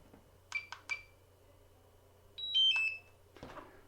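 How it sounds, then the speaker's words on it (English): DJI Mavic Mini remote controller beeping as it powers down: three quick high beeps, a pause, then a short rising sequence of tones, followed by a soft click in a quiet room. "We're going to power down the remote."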